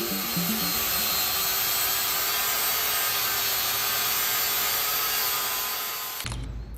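Continuous, loud abrasive rubbing of a sander against a boat hull, running steadily and close up for several seconds before cutting off abruptly.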